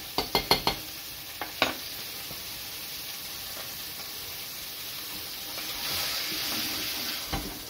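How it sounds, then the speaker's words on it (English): A soft sauce loosened with white wine simmers and cooks down in a pan beside cod in Parma ham, a gentle continuous bubbling hiss that follows a few quick clinking utensil taps at the start. "You can see that's cooking down to a nice soft sauce."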